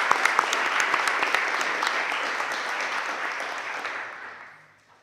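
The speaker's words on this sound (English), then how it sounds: "we can still give her a round of applause because she deserves it" Audience applause for a student award recipient at a school board workshop meeting, a dense steady round of clapping from a crowd that holds for about four seconds and then fades out.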